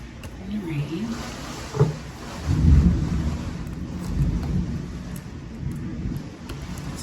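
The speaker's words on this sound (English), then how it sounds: "I'm enjoying the thunder" Low rumbling thunder rolls through a steady hiss of rain during a thunderstorm, with a deeper swell in the middle; the storm sounds moderately distant and continuous, heard indoors.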